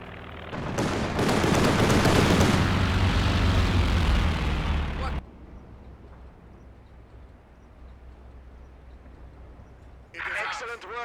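Stuka dive bomber attack in Company of Heroes 2, heard as a loud roaring blast of explosions and rattling fire for about five seconds, dropping abruptly to a low rumbling battlefield backdrop, with a voice speaking briefly near the end.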